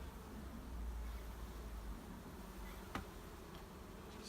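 A swarm of honey bees hums steadily and close during a hive inspection, a dense continuous drone with no talk, broken by one brief sharp click or tap near the three-second mark.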